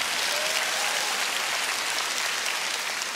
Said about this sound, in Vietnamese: Cho một tràng pháo tay cho bà con ơi.